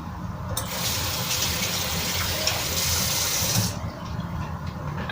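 Water gushes and splashes steadily into a pickling jar of onions for a few seconds, then stops, leaving a soft background hiss.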